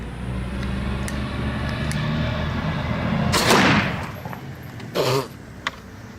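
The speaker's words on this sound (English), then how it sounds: "First, we're gonna blow this one up" A fire extinguisher ball is blown up outdoors with an M80-type firecracker, giving a sudden loud blast followed by a second sharp burst and fading rumble over steady background noise.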